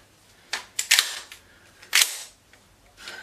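A cheap Commando pump-action toy gun firing, several sharp snapping cracks in a short burst near the start and another about a second later, close and fairly loud with quiet gaps around them.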